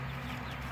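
Chickens cluck in a brief, close burst over a steady low background.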